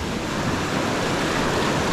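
Sea waves wash onto the shore at a fishing spot, a loud, steady roar of surf with wind, continuous and close, with no voices.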